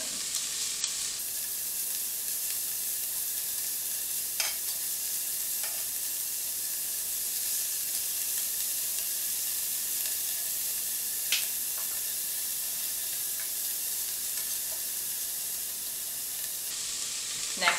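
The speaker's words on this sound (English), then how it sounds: "You're going to let your onions sweat." Onions sweating in a pot for gluten-free hamburger macaroni give a steady, even sizzle that runs throughout, with a few faint clicks of stirring and no talk.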